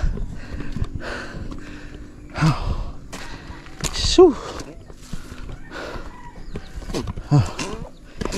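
Backyard chickens cluck and croak in short irregular bursts close by, amid breathy sighs and soft household noise, with a person's voice in between.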